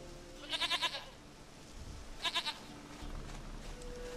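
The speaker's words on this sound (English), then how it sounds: "Goat of mine, dearest, sweetest goat." Goat bleating in the video game The Witcher 3: two separate bursts of quavering, stuttering bleats, each about half a second long, heard clearly over a faint ambient game backdrop with no talking.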